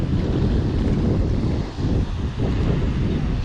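Strong coastal wind buffets a DJI Mavic Air 2 drone flying at about 230 feet. A dense, continuous roar of rushing air runs the whole time, with only brief dips in loudness and no voices.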